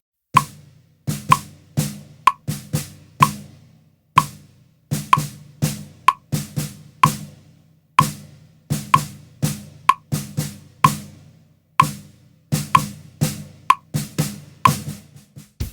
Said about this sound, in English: let's just play this snare beat with our OG tempo of 63 by itself just to hear how it